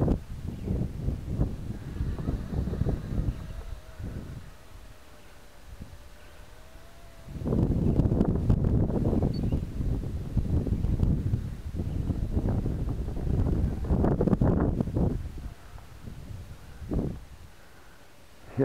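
Wind gusts buffet a microphone in a yard where a small E-flite Blade Nano QX drone is flown, with low rumbling surges that swell and fade, and a faint thin motor whine beneath.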